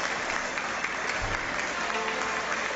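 An audience applauds at a live concert, welcoming a performer to the stage with sustained, dense clapping that stays steady and fairly loud from start to finish.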